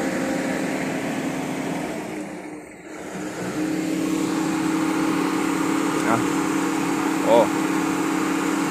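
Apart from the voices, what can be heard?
vehicle engine revving hard while driving off a trailer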